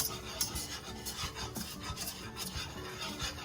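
Browning roux being stirred in a pan over the heat, close rhythmic scraping and rubbing strokes that repeat steadily and fairly quietly, with no talk.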